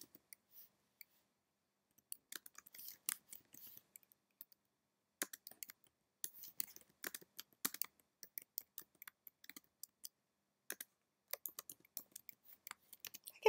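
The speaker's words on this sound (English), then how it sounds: "I can just start typing here" Quick, light keystrokes on a computer keyboard come in irregular bursts with short pauses between them, close and fairly faint in an otherwise quiet room.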